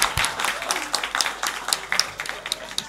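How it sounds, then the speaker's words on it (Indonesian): Audience applause in a talk setting, a modest patter of scattered claps, fairly sparse and moderately near, continuing unevenly throughout. "Tepuk tangan dong."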